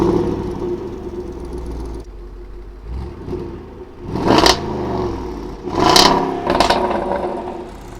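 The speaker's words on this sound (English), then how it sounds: "the start stop engine button, which unleashes the 5-litre V8" A Range Rover Sport SVR's 5-litre V8 fires up with two loud bursts a few seconds apart, then settles into a steady low idle rumble, close by with no talking.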